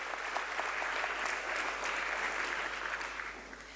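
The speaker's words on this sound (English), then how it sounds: "a warm round of applause for this lovely," An audience at an evening celebration marking 40 years of the Sensex gives a warm round of applause, a soft, steady wash of many hands clapping that holds evenly and tapers slightly at the end.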